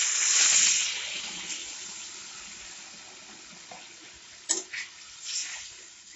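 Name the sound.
pouring water into a curry pan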